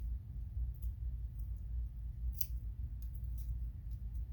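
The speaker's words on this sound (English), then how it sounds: "we'll go ahead and snip away this excess here" Scissors snipping away excess paper on a card project, a few quiet crisp cuts heard up close over a low steady background hum, with no talking.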